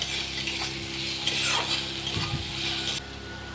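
Onions frying in a pan with a bay leaf added give a steady sizzle, with a few scraping stirs and clinks partway through, before the sound drops abruptly near the end.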